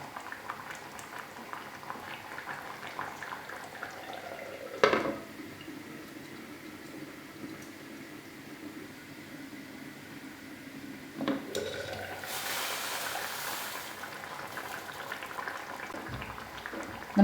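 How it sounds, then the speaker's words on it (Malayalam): Tilapia curry with coconut milk simmers covered in a pan over low heat, giving a soft, continuous bubbling. A couple of brief knocks from the lid or pan break in, and a louder burst of bubbling follows near the end. "ഇനി നമുക്കിത് ചെറിയ തീയിൽ അടച്ചു വെച്ച് 3-4 മിനിറ്റ് നേരം വേവിക്കാം."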